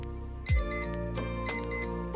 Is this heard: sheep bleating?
no